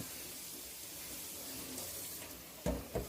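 Raw shrimp rinsed under running water in a kitchen sink, a steady close hiss of flowing water with a couple of louder splashes and clinks near the end, no talk.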